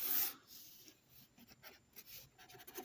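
Chalk or marker scratching across a classroom board as a wide-angled triangle is drawn for a trigonometry lesson, a louder opening stroke followed by several short, quieter strokes, no voices.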